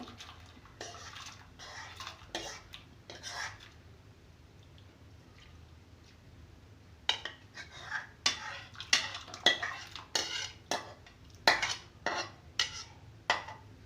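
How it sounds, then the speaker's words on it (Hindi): Arhar dal lentils tipped into a metal cooking pot, with quiet scraping at first and then a run of sharp clinks and rattles from the utensil against the pot, close and fairly loud. "अब उसमें मैं ये सारी दाल डाल दूँगी।"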